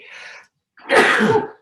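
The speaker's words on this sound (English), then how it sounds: "It's the first time I ever sneezed on Zoom." A single close, loud human sneeze on a Zoom call, a short breathy intake followed after a brief pause by a forceful burst, with no other sound around it.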